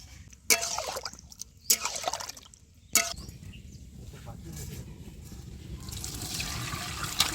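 Shol (snakehead) fish is washed in hot water. Three sharp splashes come a little over a second apart, followed by steady running and trickling water, with a voice in the background.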